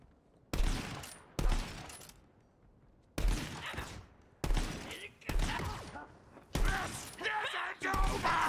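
Legendary Monocle sniper rifle firing in Borderlands 3: about seven sharp, loud shots at uneven intervals, each followed by a ringing tail, with mechanical reload clicks between them.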